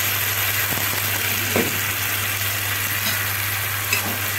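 Two tomatoes frying in a pan for an Egyptian-style omelette, giving a steady, continuous sizzle with faint clinks, close and alone with no talk.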